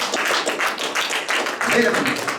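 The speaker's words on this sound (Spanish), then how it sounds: "Den un aplauso a Cristo" A church congregation claps for Christ in a dense, continuous round of applause with rhythmic surges, and voices mix in among the clapping.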